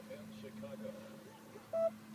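A single short electronic beep from the hands-free phone unit in a BMW or MINI R52/R53 sounds near the end, clear above a low background hum with faint murmuring voices.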